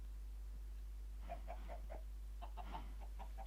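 Chickens on a chicken farm in Minecraft give a short run of soft, evenly spaced clucks and then a second burst, heard over a constant low hum with no talking.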